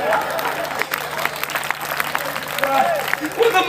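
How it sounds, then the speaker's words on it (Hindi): Audience applause at a Hindi comedy poetry gathering (kavi sammelan), a steady wash of clapping from a crowd with voices and laughter mixed in throughout. "ताली बजा।"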